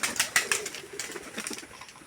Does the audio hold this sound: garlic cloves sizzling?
no